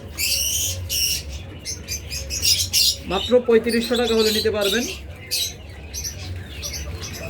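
A pair of cockatiels lets out sharp, high chirps in short bursts, nearby and loud, while someone talks over the middle stretch.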